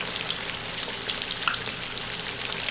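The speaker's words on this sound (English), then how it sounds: "we are going to fry 3 at a time" Nargisi kofta frying in hot oil three at a time, a continuous soft crackle and sizzle with small pops scattered throughout, close and steady, no voices.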